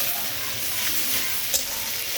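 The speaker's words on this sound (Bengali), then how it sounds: "মাছগুলো ছেড়ে দিয়ে এবার নাড়াচাড়া করে নিচ্ছি।" Taki fish being stirred and fried with fried onions in a pan give a steady, close sizzle with soft stirring scrapes and one brief clink.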